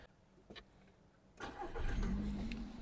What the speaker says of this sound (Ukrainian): Автомобіль завівся з півтику